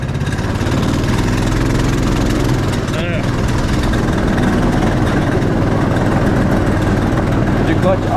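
Go-kart engine running steadily throughout at a loud, constant drone with a rough low rumble, the clutch slipping as it strains.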